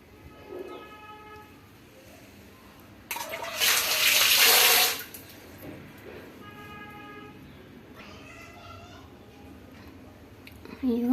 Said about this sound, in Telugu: చింతపండు పులుసు పోసాను.